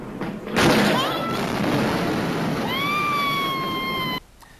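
A massive warehouse explosion in China, caught on a phone: a sudden loud blast bursts in, followed by a sustained roaring rumble with rising whistling tones, then it cuts off abruptly.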